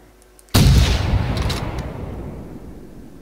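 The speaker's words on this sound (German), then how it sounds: "Also ich kann jetzt noch ein bisschen schießen." A single loud rifle shot in the hunting video game theHunter: Primal, a sharp close blast with a long rumbling decay trailing off, after a quiet lead-in.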